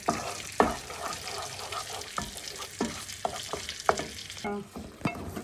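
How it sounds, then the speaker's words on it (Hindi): Masala for butter chicken sautéing on low heat, a soft continuous sizzle broken by regular spatula scrapes and taps against the pan. "अब इसको धीमी आंच में अच्छी तरह इसको भूनिए"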